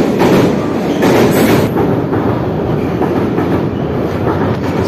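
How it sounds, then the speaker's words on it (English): A train rolls past close by, its loud, steady rumble and rattling wagons filling the whole stretch with no voices over it. "the train was passing, so I paused it"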